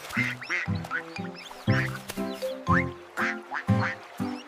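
Repeated duck-like quacks sung in a rhythmic pattern, several calls in quick succession, fairly loud and up close, part of the children's song "Five Little Ducks".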